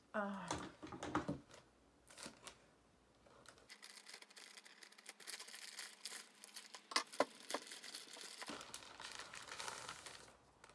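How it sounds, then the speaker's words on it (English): A book package from the library being cut open by hand, with close crinkling and tearing of the wrapping in bursts and a few scrapes, heard alone and fairly quiet. "See if I can try to cut it open on camera."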